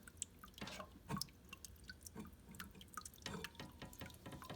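Water trickles out of a cave in a cliff-style waterfall terrarium built with sphagnum moss, heard as faint, irregular drips and small splashes in a quiet room.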